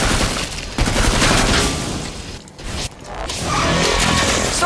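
Gunfire in Killing Floor 2, a loud clatter of rapid shots and mechanical clanks that drops away briefly midway and then resumes, with no talking.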